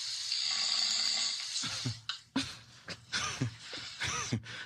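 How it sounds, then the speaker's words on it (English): Snoring-like breathing noise, several uneven rasping pulses following a steady hiss, fairly close and moderately loud with no talk. "It sound like snoring."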